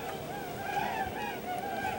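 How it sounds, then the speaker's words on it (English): Snow geese or blue geese honking at a farm in Imlay City, Michigan, a steady overlapping chorus of nasal calls at middle distance, continuous over a faint background. "Actually, it's geese, not Canada geese. I think they're snow geese, possibly blue geese."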